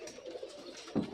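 A Pakistani golden pigeon gives soft, low cooing at close range, a brief murmuring call ending in a slightly louder throaty note.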